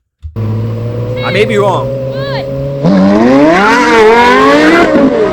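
A Porsche Carrera GT and a Lexus LFA in a drag race: loud engines idle, then rev and accelerate with rising, howling pitch, while a person talks over the engine noise.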